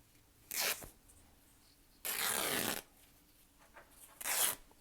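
Ribbon torn by hand along its length to fray the edge, three quick ripping bursts, the middle one longest, close and crisp against a quiet background.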